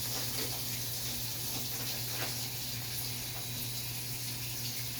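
Hot water runs steadily from a kitchen tap into a bowl that will thaw a sauce pouch. The flow is an even, continuous hiss and rush that stays at a constant level throughout, with no talking.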